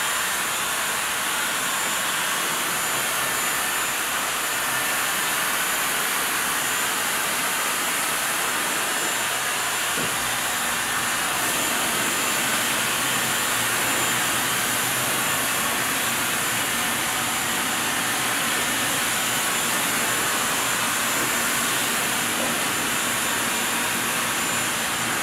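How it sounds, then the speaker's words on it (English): A handheld blow dryer runs steadily as hair is blown out with a comb after a relaxer treatment in a salon, giving a constant broadband airy whoosh that holds throughout with no talk. "just kind of blow out the mold with using a comb and just my blow dryer"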